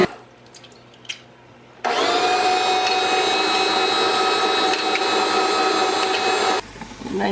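A stand mixer beats sugar and eggs for cinnamon roll dough, starting abruptly with a loud steady whirring drone that runs for about five seconds and then stops, preceded by a few faint clicks.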